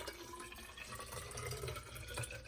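Water is poured steadily into a graduated cylinder during a lab measurement, a continuous close splashing fill that runs the whole stretch with no talking.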